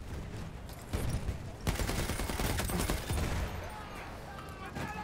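Sustained volleys of rifle and machine-gun fire pour into a behemoth in Battlefield 1, dense rapid bursts with heavier booms that swell around the middle, set against a battlefield din.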